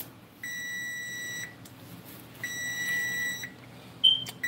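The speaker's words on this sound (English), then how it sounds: "Turn this timer off," Kitchen timer beeping during home cooking: steady high electronic tones sound in two bursts, each about a second long, above a low hum of background room noise, ending with a brief clatter.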